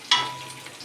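Ginger garlic paste drops into hot oil with browned onions for biryani, giving a sharp burst of sizzling frying that settles into a steady, softer crackle.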